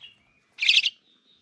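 Silky starling chicks give a short burst of high, rasping begging chirps, close and fairly loud, after a faint thin call and then quiet.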